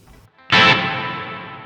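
A Nux Verb Core Deluxe reverb pedal on its plate setting: a single bright electric guitar strum bursts in and then rings out into a long, smooth, slowly fading reverb tail.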